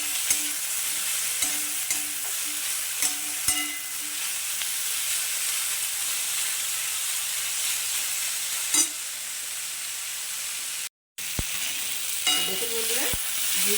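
Whole coriander seeds and curry leaves fry steadily in a pan for a ridge gourd chutney, with a continuous close sizzle and occasional spoon scrapes. A brief dropout comes near the end.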